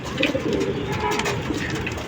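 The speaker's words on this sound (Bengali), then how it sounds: "কবুতর" Pigeons coo in soft, repeated low throaty calls close by, overlapping one another over a faint background.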